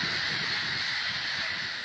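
A dense colony of over 150,000 birds on Musambwa Island in Lake Victoria, Uganda, heard as a continuous loud wall of overlapping honking and squawking calls with no gaps.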